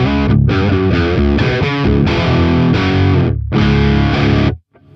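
Heavily overdriven electric guitar chords through a Mooer Preamp Live pedal with gain boost ring out loud and close, with a few short breaks before stopping abruptly.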